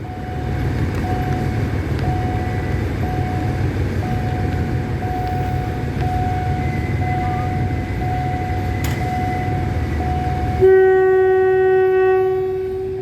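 A train rumbles past a railway level crossing on Phetchaburi Road in Bangkok for a long stretch, with a steady crossing beep overhead, then a loud horn blares near the end.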